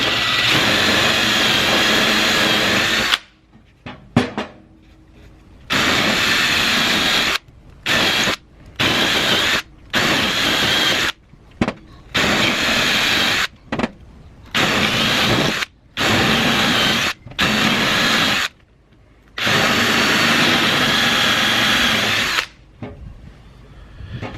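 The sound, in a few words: electric drill boring holes in wood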